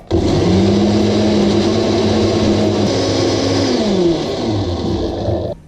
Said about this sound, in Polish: Zamykamy blender i trzymamy ręką. Włączamy najpierw jedynka, później dwójka.